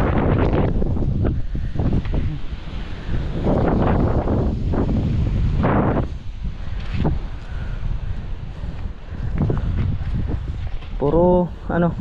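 Strong outdoor wind roars into the microphone continuously, a heavy low rumble with gusts throughout, while people talk over it intermittently.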